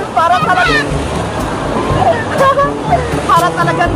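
Water sloshes and splashes continuously in a wave pool, with people chattering and shouting over the surf.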